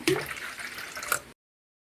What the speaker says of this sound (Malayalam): വെള്ളം ചേർക്കുന്നുണ്ട്.